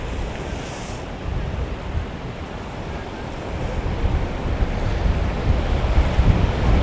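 Big ocean waves roll and crash at Haulover Inlet, forming a steady loud roar of surf with heavy wind noise on the microphone that builds toward the end.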